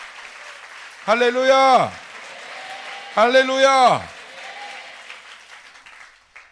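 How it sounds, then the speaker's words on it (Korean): A church congregation applauds during a New Year's Eve service, a steady wash of clapping running under two loud shouted exclamations from voices in the room. "우리 주님께 영광의 박수 올리겠습니다"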